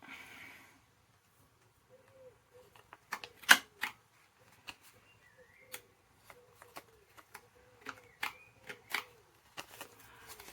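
Paper being cut to make an envelope, heard as sparse, crisp snips and papery rustles, close and fairly quiet, with short pauses between cuts.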